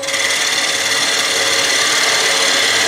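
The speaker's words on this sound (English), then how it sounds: "I'm going to finish this off with a shallow fluted gouge" A shallow fluted gouge taking light finishing cuts on a wooden bowl spinning on a wood lathe: a loud, steady rasping hiss with a faint whining tone, continuous throughout.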